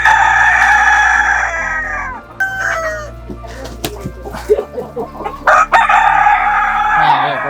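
A Kadaknath rooster on a poultry farm crows loudly and close by in long drawn-out calls, with scattered clucks from the flock between the crows.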